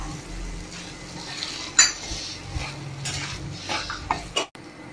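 Cut brinjal pieces are sautéed in oil with masala in a pan, with intermittent utensil scrapes and clinks over a low sizzle, ending in a sharp knock then quiet.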